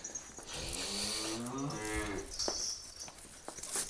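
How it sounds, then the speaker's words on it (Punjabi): A young heifer, recently calved with her female calf nearby on a Punjab village farm, gives one drawn-out, wavering moo close by, with light farmyard background and no talk. "ਸੋ ਇਹ ਵਹਿੜ ਆ ਦੋਸਤੋ, 2 ਕੁ ਮਹੀਨੇ ਦੀ ਸੂਈ, ਮਗਰ ਵੱਛੀ ਵੱਛੀ ਆ"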